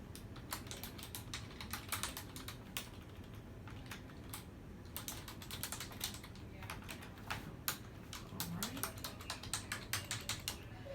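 Someone types login details for a doctor portal on a computer keyboard: rapid, uneven runs of crisp key clicks with short pauses, fairly close and steady over a low room hum.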